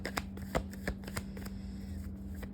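Tarot cards being shuffled during a reading, a quick run of soft riffling flicks and slaps close by, with a steady low hum beneath and no talk.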